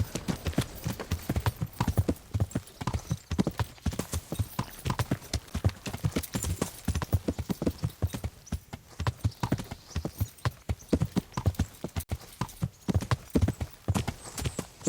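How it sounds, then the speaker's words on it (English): Horse hooves clip-clop in a steady, continuous rhythm, a horse being ridden in the medieval video game Kingdom Come: Deliverance, moderately close and without talk. "Learn how to ride a horse."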